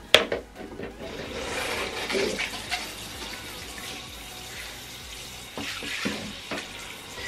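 A shower head runs water to rinse a wig, a steady spray that splashes and shifts as the stream is moved around, with a few louder bursts.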